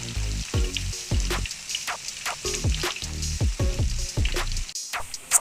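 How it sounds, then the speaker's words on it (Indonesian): Tempeh fries in hot oil until crisp for a Minang-style dish, sizzling and crackling up close with repeated stirring bursts and scrapes at an irregular rhythm, no voices. "Kita goreng tempe yang terlebih dahulu ya Bunda sampai kering."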